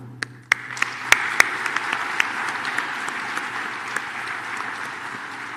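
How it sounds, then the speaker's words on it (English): A graduation audience applauds parents and faculty with a sustained, moderately loud wash of clapping, a few sharp individual claps standing out near the start. "join me in applauding our amazing parents and our faculty right now"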